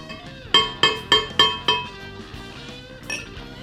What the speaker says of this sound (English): I'm going to put all these dates into the blender here.